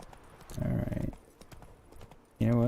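Hoofbeats of the horse Roach in The Witcher 3, a burst of rapid galloping clip-clops in the first second, quieter hoof sounds, then a loud close-up horse snort or whinny at the end.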